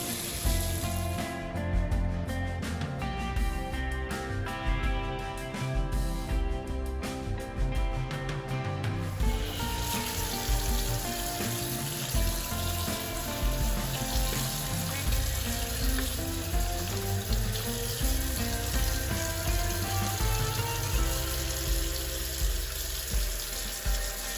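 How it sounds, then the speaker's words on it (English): Tap water runs steadily from a faucet into a sink while a tray from a Lionel 397 coal loader is rinsed, a continuous broadband wash with louder splashing in the first stretch, then a steadier flow with faint clatter underneath. "So let's just turn on the faucet here and let's get cleaning."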